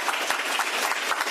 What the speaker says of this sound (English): I'm going to say it again, see if I can get a louder clap